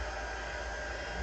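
A hair dryer blows steadily up close, drying fresh paint, its broadband rush holding constant and loud for the whole short stretch with no voices.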